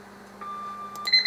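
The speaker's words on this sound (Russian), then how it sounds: "Будильник же звонит, отключить!" An electronic alarm clock beeps, a steady tone followed by quick, higher-pitched chirping beeps, fairly close and moderately loud.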